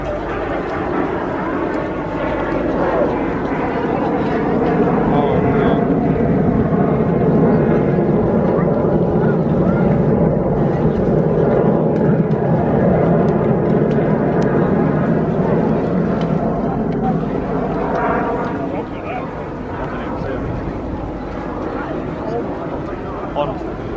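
Heritage aircraft fly at the Eastbourne Airshow, a sustained engine drone swelling and holding steady, partly masked by a commentator talking over the top.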